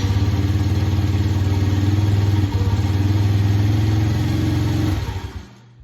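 An ATV engine running on a freshly replaced battery, a loud, steady, close putter at idle with one brief dip, then shutting off and fading out.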